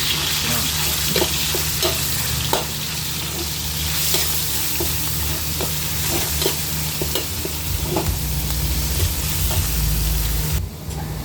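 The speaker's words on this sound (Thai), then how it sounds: "ลวนหมูสับให้สุกก่อนนะครับ" Minced pork sizzling and frying in a wok, with repeated scraping and clanking of a spatula stirring it, steady and close for several seconds.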